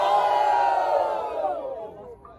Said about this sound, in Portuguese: barulho para quem gostou das rimas de Basque